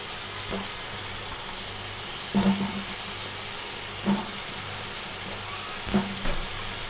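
Mixed vegetables tipped into a pan of hot oil and cooked-down spices for a home-made prawn dish, frying with a steady soft sizzle broken by three or four louder bursts as pieces land and get stirred.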